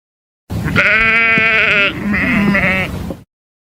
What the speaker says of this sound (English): black sheep looking at me